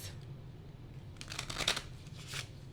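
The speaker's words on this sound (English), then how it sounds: "Hearing shuffle twice." Tarot cards shuffled briefly, a soft papery riffle of flicking bursts, faint and close with a low background hum and no voices.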